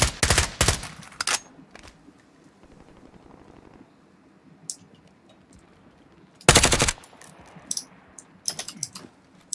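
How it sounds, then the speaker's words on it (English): Sharp, loud gunshots in Call of Duty: Modern Warfare 2019, a quick cluster at the start and another heavy burst later, separated by quieter ambience with faint distant pops and some clicking. "Watch out for the sniper shots."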